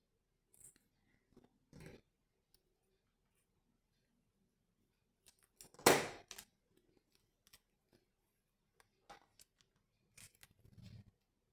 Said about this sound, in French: On coupe le surplus, bien évidemment.